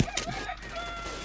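Chickens cluck briefly in the KouR.io shooter video game, a short, busy burst of fowl sounds in a dense, noisy game mix.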